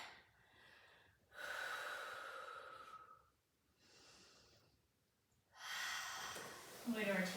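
Deep, audible breaths in child's pose during a Pilates mat class, slow inhales and long exhales close to the mic, three or four breath cycles separated by quiet pauses.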